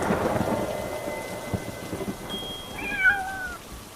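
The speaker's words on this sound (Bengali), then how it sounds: "বাজ পড়ছে আর আওয়াজ হচ্ছে" A thunderstorm sounds as a low rumble with rain noise, fading as a brief wavering, meow-like tonal cry rises near the end.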